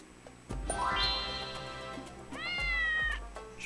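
Cartoon cat meowing in the Doki-Doki Universe video game, two drawn-out rising meows, clear and near over soft game music.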